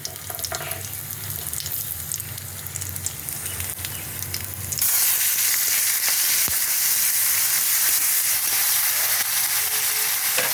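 Shrimp coated in turmeric and salt go into a hot pan, and a loud, bright sizzle erupts midway and keeps going strongly to the end, after quieter kitchen clatter and frying noise.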